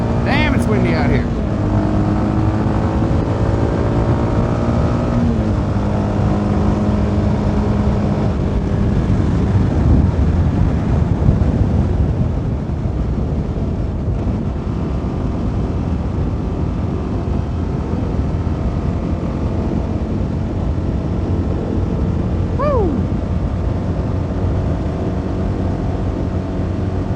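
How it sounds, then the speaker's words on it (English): Wind roars across the microphone on a CFMoto 300NK motorcycle during a country ride through small Pennsylvania towns, a loud continuous buffeting over the engine drone, with a brief shift in engine pitch late on. "Damn, it's windy out here."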